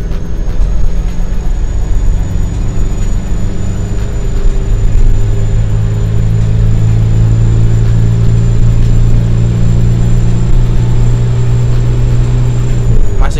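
An Isuzu Panther LV turbo diesel revs hard in second gear, a loud droning engine hum that climbs and holds steady while the vehicle drives, with a thin turbo whine above the roar.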